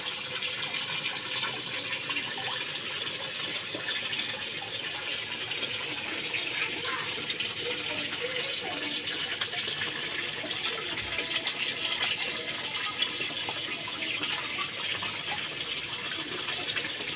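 Steady, soft rushing and trickling of water circulating in a tarpaulin koi pond with a filter, a continuous even wash of flow without pauses.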